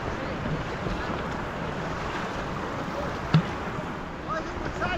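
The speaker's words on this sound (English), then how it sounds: "it's just because it's bouncing off the walls, getting backwash" Sea water sloshing and washing back off the rock walls of a sea cave at North Landing, heard from a packraft as a steady wash of water with wind buffeting the microphone and one brief knock.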